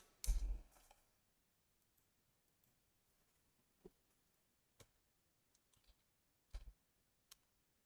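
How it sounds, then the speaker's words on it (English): Computer keyboard keys click in sparse, isolated taps, a sharp burst at the start followed by scattered single clicks spaced widely apart in an otherwise quiet room. "I'm slow with it because I'm looking at my keyboard."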